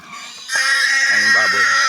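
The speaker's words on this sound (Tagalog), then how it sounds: "Ang baboy." A white wild boar lets out a loud, shrill squeal that runs on for over a second, close by, with faint voices before it.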